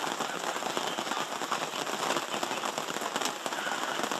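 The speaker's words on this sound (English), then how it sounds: "First time I've ever been here that it's been raining." Steady rain falling outdoors at a mining camp, a dense continuous hiss of drops pattering on surfaces, even and unbroken throughout with no voices.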